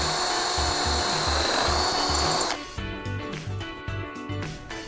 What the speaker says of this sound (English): re-drill the mounting hole.